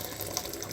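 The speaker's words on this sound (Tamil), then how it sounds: "இந்த தண்ணியை வந்து நல்லா வடிகட்டிக்கலாங்க" Water drains from boiled toor dal through a strainer in a kitchen, a steady close splashing trickle with no break and no one speaking.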